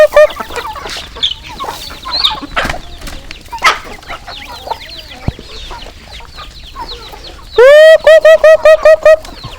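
Farmyard chickens and ducks cluck and chatter loudly up close while being fed rice, with a person calling to them in a rapid repeated 'gu-gu-gu' imitation near the end.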